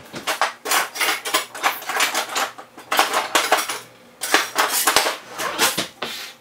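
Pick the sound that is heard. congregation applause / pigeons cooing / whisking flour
whisking flour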